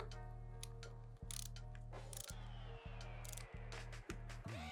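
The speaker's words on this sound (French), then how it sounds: "Voilà, la clé claque instantanément." A torque wrench ratchets repeatedly while tightening a bicycle bottom bracket, giving a steady mechanical buzz broken by several sharp clicks at regular intervals, up close and fairly quiet.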